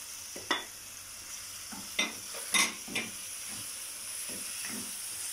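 Garlic, pepper and tomato mixture frying in oil, a steady soft sizzle with several sharp stirring scrapes and clatters of the spoon in the pan, close and without talk.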